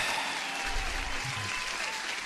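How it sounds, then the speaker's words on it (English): A steady wash of crowd applause plays throughout, dense and even with no single claps standing out, and no voices. "applause to you guys and everyone who's tuned in."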